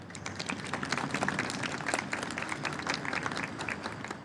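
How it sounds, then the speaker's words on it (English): Crowd applause at a bus stop ribbon cutting ceremony, steady dense clapping from a gathered group throughout, moderately loud and continuous with no voices on top. "you should all give yourselves a round of applause for that"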